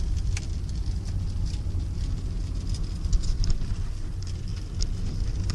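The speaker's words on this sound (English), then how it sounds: "It's the sound of the rain" Rain patters through a microphone inside a car, a soft irregular ticking and rattling over a low steady rumble, with no talking.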